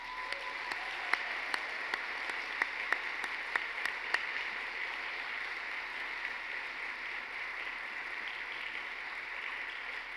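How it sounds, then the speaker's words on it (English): Continuous audience applause at a community celebration marking a women's center and shelter's 50th anniversary, moderately quiet and distant, with a few sharp, distinct claps standing out early on before the sound settles into an even wash. "give them a very big round of applause"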